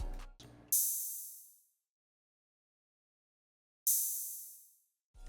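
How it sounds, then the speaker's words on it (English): A simple open hi-hat sample from the 3K kit strikes twice, several seconds apart, each hit a bright, crisp sizzle that decays into silence. "it's the simple open hat. It sounds like this."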